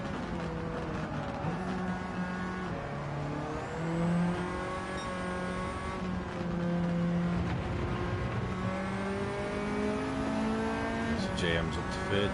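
A race car engine in Gran Turismo 7 revs and shifts up through the gears, pitch climbing and dropping with each change, other cars audible around it, while a person talks over the steady engine note.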